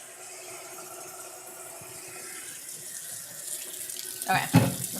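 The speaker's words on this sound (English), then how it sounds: "Okay, we got some hot water." Hot water runs steadily from a kitchen tap into a sink, a soft continuous rush that grows louder with splashing toward the end.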